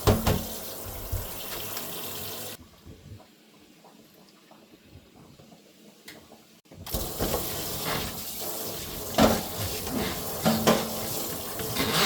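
Tap water running into a kitchen sink as dumplings are rinsed, a steady rushing splash that stops for a few seconds and then resumes strongly with clattering.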